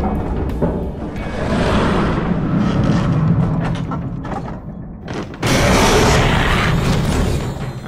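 A light shot weapon strikes zombie demons in a horror action game, with sharp bursts, mechanical clanks and crashing impacts that rise and fall over a few seconds, loud and close.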